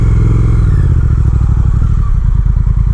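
A 2020 Triumph Speed Twin street motorcycle rumbles loud and close while riding, its twin-cylinder exhaust pulsing in a steady low throb that quickens as it accelerates, with no talk.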